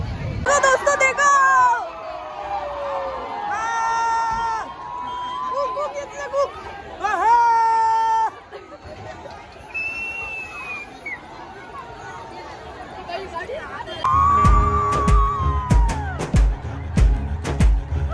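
A dense crowd gathered in Bhinmal to welcome Bageshwar Baba, a constant hubbub of many voices with children among them, someone talking close over the din and a louder surge of noise near the end.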